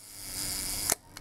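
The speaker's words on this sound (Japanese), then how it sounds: "シャッター音なども聞いていただけていると思います。" A 1954 Leica M3 double-stroke rangefinder camera, serviced, firing its shutter at a one-second speed: a sustained whirring hiss ends in a sharp mechanical click, close and distinct.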